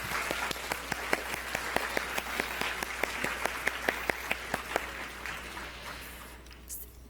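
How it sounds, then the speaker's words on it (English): Applause at a members' awards ceremony: a moderate crowd clapping with several sharp, distinct nearby claps standing out in a steady rhythm over a low hum, gradually thinning and fading toward the end. "I want a huge round of applause for the folks who are doing our work."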